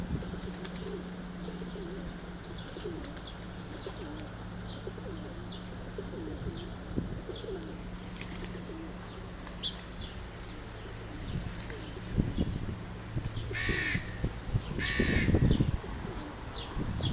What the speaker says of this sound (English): Oh, she's feeding the birds.